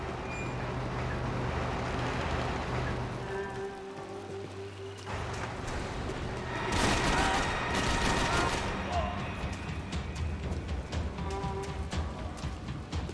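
Gunfire crackles in the Max Payne 3 video game, bursts of rapid shots and impacts rising in the middle and continuing in scattered volleys under game sounds and brief speech.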